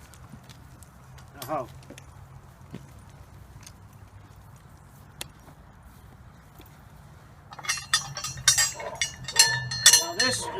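A harnessed team of two horses shifts and steps with scattered hoof clops and harness clinks, then breaks into louder, denser hoofbeats near the end, while someone speaks and gives commands.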